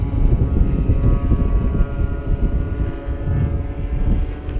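A 20cc gas-powered RC model airplane drones steadily overhead, its engine a continuous loud buzz that swells and eases slightly as it passes, with no voices.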